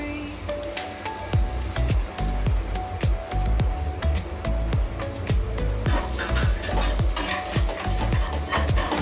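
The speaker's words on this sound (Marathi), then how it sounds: "आपण आता याच्यामध्ये आपले सगळे मसाले टाकून घेऊया" A spoon stirs spices into sautéed onion and tomato in a pan for a spicy chicken gravy, scraping in steady repeated strokes over a constant close sizzle of oil, with no talking.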